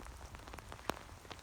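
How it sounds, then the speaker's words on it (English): Rain falling on a beach, a soft continuous patter with scattered faint drops and one slightly sharper tap, quiet and diffuse with no voices. "on this beautiful, beautiful rainy beach with me"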